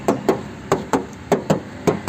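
Knuckles rap on the metal door body panel of a 2008 silver LM Smart Turbo car, giving eight sharp, close knocks in an uneven rhythm with no voices.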